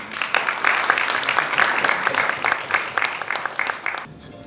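Crowd clapping at a film trailer and audio launch event, a sustained, dense round of applause that carries evenly for several seconds before cutting off abruptly.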